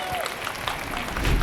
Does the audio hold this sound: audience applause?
yes